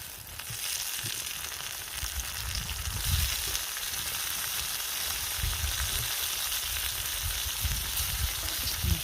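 Chopped tomatoes and onions frying in a pan, a steady loud broadband sizzle crackling continuously throughout with occasional soft stirring bumps, no talking.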